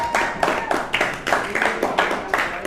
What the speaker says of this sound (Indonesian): Ya, sekali lagi tepuk tangan dong buat kelompok 4.